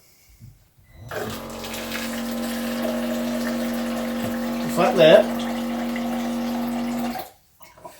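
Water gushes steadily from a kitchen faucet on a reclaimed sink in a tiny house for several seconds with a humming pump-like tone, starting and stopping abruptly, while a person briefly speaks over it.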